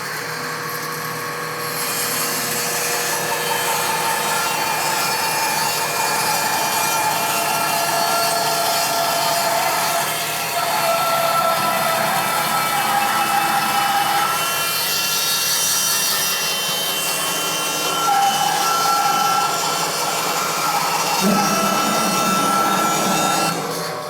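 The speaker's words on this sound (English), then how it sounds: "now I'm ready to start cutting the taper on this face" A saw cuts a taper along the face of a clamped wooden workpiece, giving a loud, steady rasping drone that runs without pause for over twenty seconds, its pitch shifting slightly as the cut progresses.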